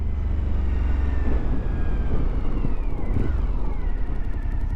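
A Suzuki V-Strom 1050 motorcycle with its stock exhaust rides along, the engine giving a steady low rumble and drone mixed with wind and road roar, close and continuous throughout.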